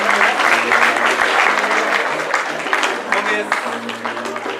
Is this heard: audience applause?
yes